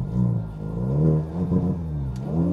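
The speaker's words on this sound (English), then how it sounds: "Listen to the exhaust." Sports car exhaust revving up close in a series of rising and falling engine pulls, deep and throaty, with a short quiet gap between bursts.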